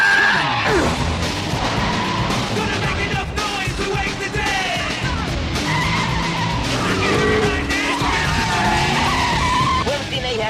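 A car driven recklessly skids with tires squealing in sharp bursts and revving engine, loud and close, mixed with crashes and overlapping voices.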